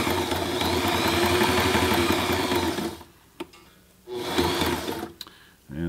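A brand-new Sailrite Ultrafeed LSZ1 sewing machine runs loud and steady through fabric for about three seconds, stops, then stitches again in a second shorter burst, with brief clicks in the quiet gaps.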